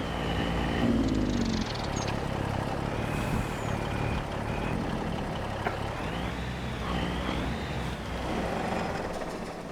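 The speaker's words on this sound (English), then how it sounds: "And park the truck in the shed here." A truck in Farming Simulator 25 creeps into a shed and parks on a snowy day, its engine droning low and steady. A short hiss like an air brake comes early, then faint mechanical tones follow.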